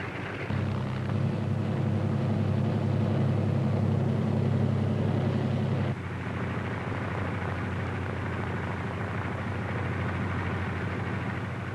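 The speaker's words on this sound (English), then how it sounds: "other C-47s move into position for their takeoff at the head of the runway" A WWII C-47 transport aircraft taking off from a runway gives a loud, steady piston-engine roar that drops abruptly to a lower, rougher drone partway through, heard from fairly close.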